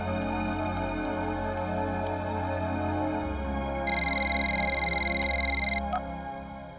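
A telephone rings with repeated electronic trills over a dense, steady background of music. A sharper, brighter ringing burst comes partway through, and then it stops abruptly.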